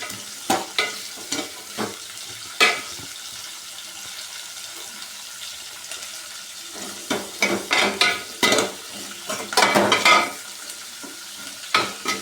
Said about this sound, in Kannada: ಈರುಳ್ಳಿನ ಫ್ರೈ ಮಾಡ್ಕೋತಾ ಇದ್ದೀನಿ